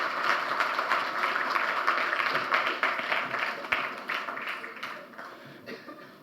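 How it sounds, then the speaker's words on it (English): Audience applause at an education plenary conference welcomes a former Nigerian Minister of Education to the stage: a dense, steady wash of clapping that holds for several seconds before slowly thinning out. "A big round of applause."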